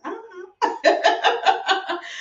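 A dog wearing a small tool belt in a home workshop gives a quick series of close, rhythmic barks or yips after a short opening whine.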